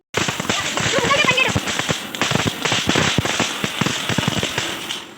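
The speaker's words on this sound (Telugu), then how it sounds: "తర్వాత టపాసులు పేల్చారు" Diwali firecrackers burst close by in rapid, irregular cracks and pops that run almost continuously, with people's voices mixed in under the bangs.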